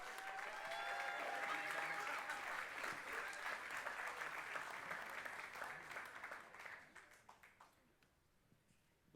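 A theatre audience at an awards show welcomes the mayor of Oshawa with loud sustained clapping that gradually thins out and fades to scattered claps near the end.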